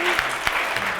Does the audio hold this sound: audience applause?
yes